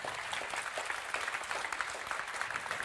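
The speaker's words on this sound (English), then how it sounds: "I think an applause is in order for the panel." Applause from a conference audience after a panel session on equality data, a dense, even roar of many hands clapping throughout, fairly close and steady.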